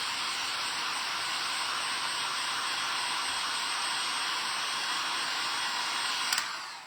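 A hair dryer blows steadily to dry paint on a glass and resin Santa ornament, a loud constant whoosh that runs the whole time and ends with a brief click.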